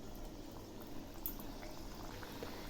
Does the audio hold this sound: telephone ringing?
no